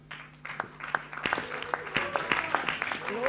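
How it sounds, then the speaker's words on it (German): A small audience at a late-night talk event gives applause, with scattered sharp individual claps building into a livelier patter, mixed with murmured voices and some background hum. "Applaus für Lothar."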